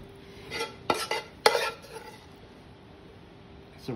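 Bacon is laid into a cooking pan, with a few sharp clinks and rustles of utensils against the pan over a quiet, faint background sizzle.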